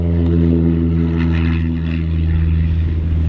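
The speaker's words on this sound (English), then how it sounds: "There's a plane right there. It's revving up." A small propeller plane revs its engine on the ground before takeoff, a loud steady drone with strong low harmonics and a rising pitch, close by and with no speech.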